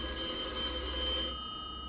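In the Thần Trùng horror game, a smartphone rings with the old-fashioned bell trill of a desk telephone, a steady continuous ring that cuts off near the end, fairly quiet and alone.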